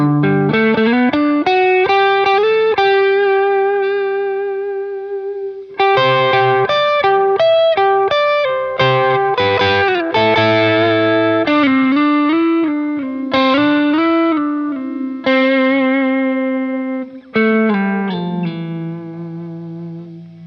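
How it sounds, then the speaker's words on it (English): Electric guitar notes and chords played through a KMA Audio Machines Cirrus reverb pedal, each phrase ringing out and decaying into a long wash. "I love the reverb on this thing."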